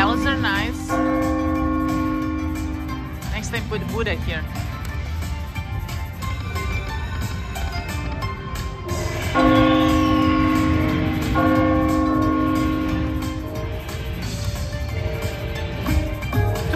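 Chiming bell tones ring out from a high-limit Dragon Link slot machine on a Buddha-themed Golden Century game, repeating in bright sustained bursts amid casino noise while a person talks over them.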